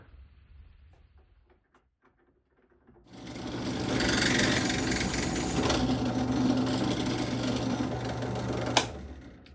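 Tapping threads into a Monroe air shock fitting adapter, a steady machine whir starting a few seconds in and running evenly near and loud after a quiet stretch, ending with a brief sharp click.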